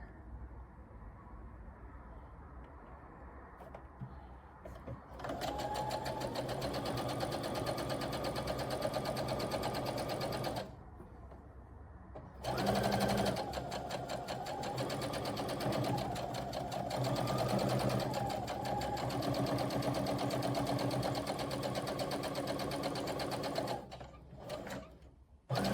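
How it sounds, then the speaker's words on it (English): A sewing machine runs in long, steady, close, loud stretches as it stitches Velcro onto a catnip blanket. The whirring hum breaks off briefly twice, then resumes and ends near the close. "stitching down the Velcro to make it look a little nicer. So I will, in fact, stitch"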